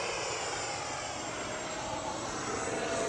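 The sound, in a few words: FMS F-86 80mm RC model jet flying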